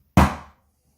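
A single sharp tap on a beer glass holding Samuel Smith's Nut Brown Ale, struck to knock bubbles off, rings briefly with a bright clink and decays within a few tenths of a second, alone and close.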